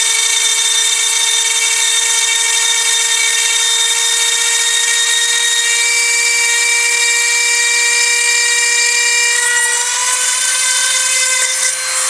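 Dremel rotary tool grinding dichroic fused glass, a loud, steady, high-pitched whine that holds throughout and shifts pitch slightly near the end.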